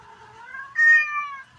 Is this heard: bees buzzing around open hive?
no